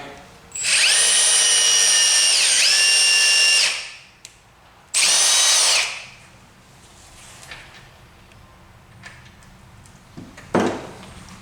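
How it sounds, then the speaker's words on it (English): A power drill drives a screw into a wooden lathe faceplate in two loud whining bursts, the first about three seconds long and the second shorter. The motor pitch dips under load, and a sharp clack follows later. "So I'm just going to put a screw in there just to try to hold it in place."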